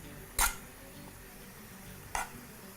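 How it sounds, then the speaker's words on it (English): A spoon fluffing cooked, steamed rice in a pot: two short metallic scrapes and clinks about two seconds apart, close by, with a quiet stretch between them. "I'm just going to fluff that up with a spoon"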